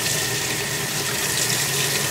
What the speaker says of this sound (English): I'll let the water run for a minute on both of these systems to clean out the hose.